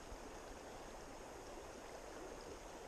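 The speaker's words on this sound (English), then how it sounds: "It's a pretty little brush-lined stream." A small brush-lined high mountain stream flows in a steady, continuous rush of water, even and unbroken throughout, with no voices.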